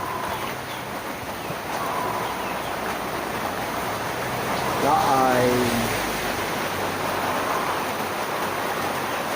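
Rain returns and grows heavier on a windy day, a broad steady hiss that swells slightly midway, with a brief voice and a short warbling sound over it.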